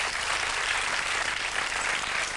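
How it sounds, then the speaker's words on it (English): A studio audience at a TV dating show applauds in a steady, dense wash of clapping that holds evenly for the whole short stretch, with no voices over it. "another round of applause"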